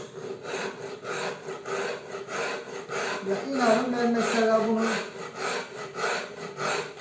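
Steady rhythmic rasping of sandpaper rubbed back and forth by hand across a wooden electric guitar body, close up, with someone talking over it partway through.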